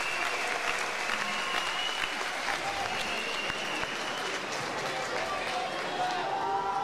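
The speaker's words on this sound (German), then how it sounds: "Applaus für diesen hochintensiven Kampf" A crowd applauds between rounds at an MMA fight, a continuous, fairly even roar of clapping and cheering filling the arena, with a commentator's voice heard faintly through it.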